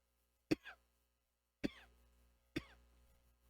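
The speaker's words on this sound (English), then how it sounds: "I was coughing so hard that I was about to throw up" Three hard, isolated coughs from one person at close range, each a sharp burst with a short rasping tail, spaced about a second apart in an otherwise quiet room.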